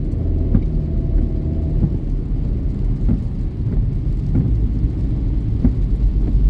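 A steady low rumble of road traffic on a rainy night in Montreal, with a truck's heavy engine drone close behind, continuous and loud throughout.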